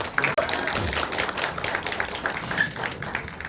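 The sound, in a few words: audience applause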